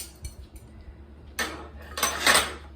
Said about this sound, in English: I'm just gonna cut up this butter a little bit so it melts a little easier.